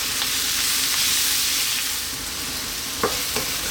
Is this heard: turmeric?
yes